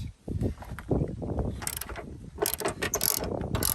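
Ratchet wrench working on car coilover mounting bolts, rapid clicking pawl bursts and metallic clanks in uneven runs, close and fairly loud, no talk.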